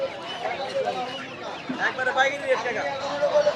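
Native desi chickens at a busy wholesale poultry market in Tongi, rural Bangladesh, clucking in a steady jumble over crowd chatter and bargaining voices nearby.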